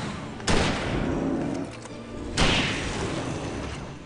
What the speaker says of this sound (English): I'll just pull up a hunting rifle this time.